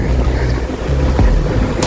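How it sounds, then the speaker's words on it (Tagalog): Strong sea waves at a beach where people are swimming roll in as a loud, continuous roar, with heavy wind buffeting the microphone throughout. "Ang lakas pa man din ng alon."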